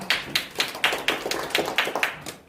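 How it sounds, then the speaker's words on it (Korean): Sparse, rhythmic clapping from a small audience at a community policy forum welcomes the next discussion panelist, a housing cooperative chair; roughly eight distinct claps over a couple of seconds, fading toward the end, with no talking. "큰 박수로 맞이해 주시기 바랍니다."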